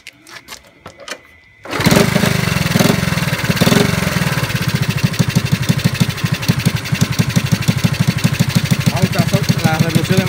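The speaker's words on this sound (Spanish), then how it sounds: "Ahora vamos a buscar las revoluciones más altas de la moto." A motorcycle engine sputters briefly, then catches and runs loud and steady with a rapid pulsing beat, rising in intensity at moments, revved to high RPM while its carburetor is adjusted.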